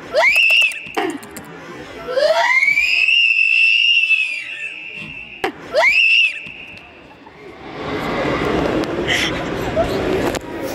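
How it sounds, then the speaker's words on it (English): Girls scream in a shopping mall during hectic last-minute Christmas shopping. Several loud, drawn-out, shrill screams ring out close to the microphone, and busy crowd chatter fills the background afterward. "I didn't think you were gonna scream that."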